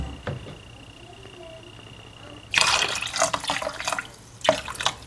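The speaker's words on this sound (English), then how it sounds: "So I'll put another bowl of water into this." A bowl of water pours into a pot of rice for fried rice, a close splashing gush that runs for a couple of seconds, pauses briefly, then splashes again.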